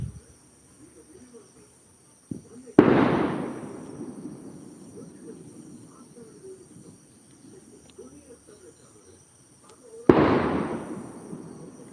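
Firecrackers burst during an evening Tulsi puja, two sharp loud bangs several seconds apart, each trailing off into a rumbling decay over a quiet background of chirping insects.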